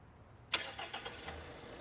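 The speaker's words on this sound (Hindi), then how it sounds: "Start the engine." A new 2025 Tata Sierra diesel engine cranks and fires into a sharp start after a quiet moment, then settles into a steady idle with a few quick surges, heard in a showroom.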